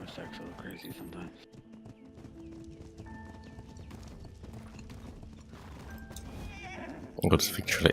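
Horse sounds in the ARK survival game: hoof clip-clops and a neighing whinny amid layered game ambience, with a louder burst of noise at the end.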